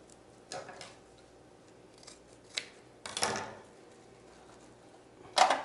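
Scissors trimming yarn tufts for a blue snowflake wreath, a few scattered snips and crisp cuts at close range with quiet pauses between, the last snip sharpest.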